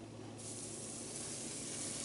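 Crappie fish frying in hot grease give a steady, dense sizzle that swells and holds without pause, close and fairly quiet, with no voices over it.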